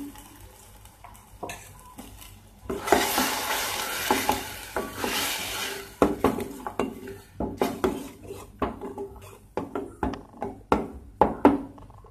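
Raw ground masala paste hits fried onions in a pan for a Malvani prawn curry, breaking into a burst of sizzling, followed by repeated scraping and clanking as a spoon stirs against the pan, up close.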